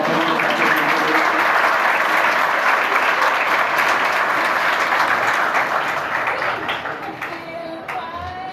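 Loud sustained applause from a crowd at a yoga session, dense clapping that gradually thins and fades toward the end.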